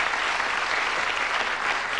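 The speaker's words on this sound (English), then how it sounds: "give them a nice, warm Christmas round of applause" A studio audience on the game show Bullseye applauds warmly at Christmas, a steady dense clapping from a large crowd, loud and continuous throughout with no talk over it.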